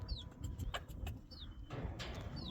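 A pumpkin hen clucking softly in a backyard poultry yard, with a few short faint calls and chirps and other birds chirping now and then in the background.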